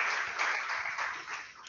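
An audience at a talk gives a short round of applause for the speaker Jaime, heard as a steady patter of many hands clapping at moderate distance, fairly faint and without pause.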